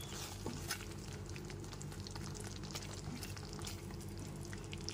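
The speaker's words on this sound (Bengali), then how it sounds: "গ্যাসের ফ্লেমটা লো টু মিডিয়ামে রেখে খুব ভালো করে কষিয়ে নিতে হবে।" Potato and pointed gourd korma being stirred and fried in a pan over a low-to-medium gas flame with yogurt, tomato and sugar, giving a steady close sizzle with scattered scraping clicks and no talking.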